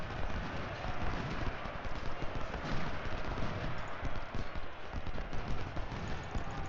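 Continuous massed musket volley gunfire and battle din from the Ultimate General: Civil War strategy game, a dense, loud, unbroken roar across the whole stretch with no talk.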